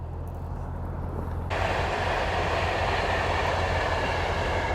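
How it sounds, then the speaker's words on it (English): A train rushes past close by, a sudden surge of broad roaring noise that stays loud and steady after a quieter rumbling start. "That feeling when a train goes past."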